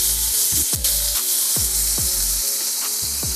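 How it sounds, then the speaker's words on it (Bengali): Half a cup of onion sizzling in hot oil for a Bengali koi fish curry, a loud continuous hiss with repeated scraping stirs of a spatula in the pan. "এই তেলের ভিতরে এখন আমি দিয়ে দেব 1/2 কাপ পরিমাণ পেঁয়াজ।"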